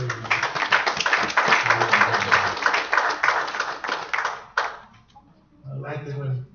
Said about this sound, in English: Come on, give me my hand clap of praise.